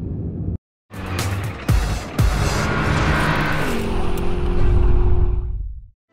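Opel Omega car driving on the way to a service station, engine and road noise loud and continuous for several seconds, swelling as it accelerates before dropping away abruptly.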